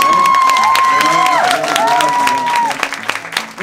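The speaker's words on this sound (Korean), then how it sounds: "박수 한번 좀" An audience at a fan meeting applauds and cheers loudly, with crowd voices and a squealing, pitch-sliding tone over the clapping before it thins out.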